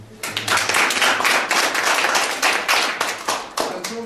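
A seminar audience claps together to welcome a guest, brisk and dense hand clapping close by for several seconds, with individual claps audible and a faint voice underneath.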